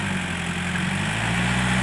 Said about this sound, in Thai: มาชมยันมา 51 แดงมาครับ ยันมาตัวใหม่ครับ ดันดินเข้าบ้านครับ